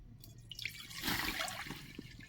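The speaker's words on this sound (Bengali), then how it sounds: "পরিমাণ মতো পানি দেব।" Water pours into a wok on the stove, a brief splashing rush that swells and then settles, fairly quiet and heard alone.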